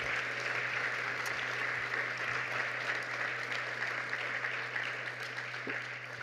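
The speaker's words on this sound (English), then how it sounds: "Please, let's give her a warm round of applause for that one." An audience at a closing ceremony applauds in a steady, even wash of clapping heard from a distance, fairly soft over a constant low hum.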